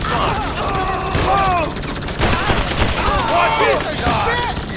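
Rapid gunfire in a GTA 5 alien battle, dense bursts of automatic shots with booms and whooshing game effects, continuous and loud, mixed with a voice talking over the action.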